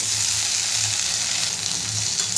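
Sliced potatoes frying with lightly browned onions in an oiled pan for Bengali alu posto, a steady close sizzle with a low bubbling undertone that holds evenly throughout.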